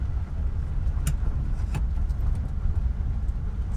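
An old Chevy Nova with a two-speed Powerglide automatic cruises along, its engine a steady low rumble with road noise throughout and a couple of brief clicks or rattles, no talking.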